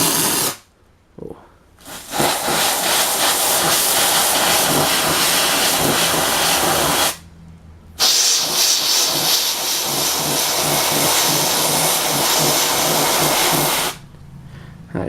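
A canned air duster held upside down sprays into a portable 8-track player that is still plugged in: long, loud, close hissing bursts broken by two brief pauses, with no talking.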